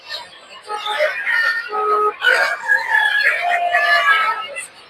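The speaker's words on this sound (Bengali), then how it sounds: "দেখতে পাচ্ছেন যে চিকেন মুরগির বাচ্চা" Chickens crow and cluck in a dense, continuous chorus at a busy duck and poultry market in Tongi, with voices mixed into the clamor.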